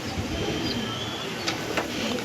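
Tournament racing pigeons coo softly from a loft with a steady murmur and a few faint chirps, heard nearby.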